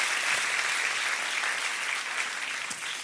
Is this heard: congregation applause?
yes